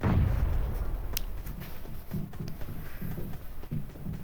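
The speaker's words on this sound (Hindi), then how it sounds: "सामने से फायर हो रहा था" Gunfire in the battle-royale video game PUBG Mobile: a few sharp distant shots and booms over a rumbling low background, with a steady throb of game ambience continuing throughout.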